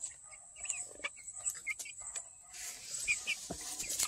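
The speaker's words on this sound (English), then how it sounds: "these are Red Star chickens" Red Star hens cluck softly and intermittently at close range in a backyard coop, with short throaty calls scattered over a quiet background, a high steady hiss throughout and a low voice murmuring nearby.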